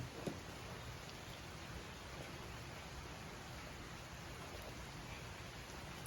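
Heavy monsoon rain in the Konkan countryside, a steady dense hiss of downpour that holds at an even level throughout with no break and no voices.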